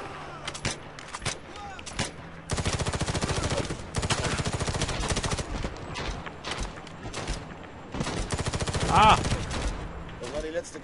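Gunfire in the Medal of Honor video game: sustained rapid automatic bursts and scattered single shots with explosive impacts, loud and continuous over roughly eleven seconds, with a player speaking German underneath.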